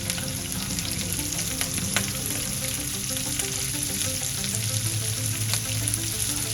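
Chopped onion sautés in hot oil for egg fried rice, giving a steady, close, continuous sizzle that holds evenly throughout, with faint tonal sounds running underneath.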